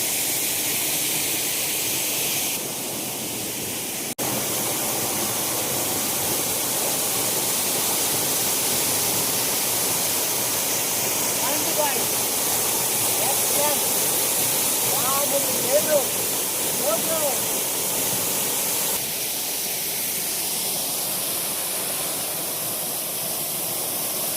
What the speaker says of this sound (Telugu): మేమైతే వాటర్ ఫాల్స్ చూసామండి